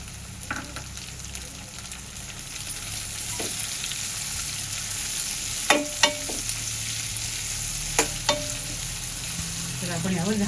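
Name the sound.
onions sautéing in oil in a pan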